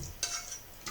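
Chicken corn chowder being stirred in a pot, a thick gravy-like mixture giving two short, soft scraping swishes, close and faint, with no talk.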